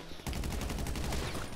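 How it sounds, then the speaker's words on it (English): Rapid automatic gunfire in a mansion deathmatch video game rattles as a dense, steady burst of evenly spaced shots, loud and continuous. "Oh, getting shot from everywhere, man."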